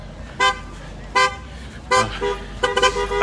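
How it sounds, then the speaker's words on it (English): Car horns honk in short bursts on a busy city street during a protest and rally, four toots that come closer together at the end over a low, steady traffic rumble. "There's a shit ton of cars over here."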